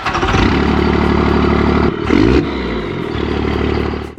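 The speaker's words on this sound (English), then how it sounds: "the Cummins has such a distinctive sound" A Cummins diesel engine in a square-body Chevy truck runs loud and close with a heavy, clattering idle, briefly revving up before settling back to a steady rumble.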